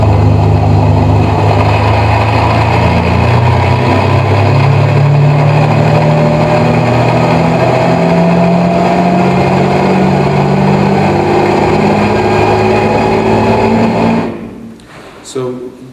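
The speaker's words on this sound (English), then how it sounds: "one of the analyses that we did of the Enzo engine sound" A Ferrari Enzo engine accelerating hard toward 130 mph, its loud rising whine and rapid revs climbing through gear changes, with gearbox rattle underneath, before abruptly cutting off near the end.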